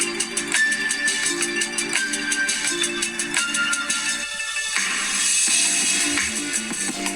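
Audio playing through the speakers of a OnePlus 9 Pro smartphone, a continuous musical track with steady rhythm and tonal content, moderately loud and close.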